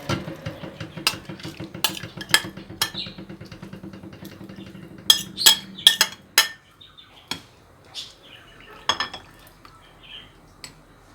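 Metal utensils clink and scrape against a pot while stirring tomato paste, in a quick rhythmic run, followed by scattered sharper clanks and knocks, close by with no talking.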